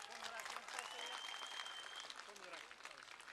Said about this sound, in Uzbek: Qani shu o'quvchilarimiz uchun bir qarsak bo'lsin.